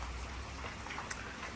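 Rain falls steadily outdoors during scrap metal collecting, a soft continuous hiss with scattered patter, fairly faint.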